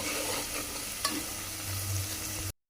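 Food frying in hot, fresh oil, a soft steady sizzle with a single sharp click partway through, then an abrupt cut to silence.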